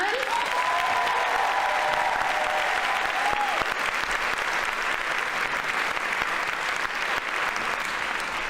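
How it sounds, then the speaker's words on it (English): A crowd at a staff convocation applauds jump rope performers, with sustained, even clapping lasting over eight seconds and a voice speaking briefly over the opening seconds. "So give them a round of applause."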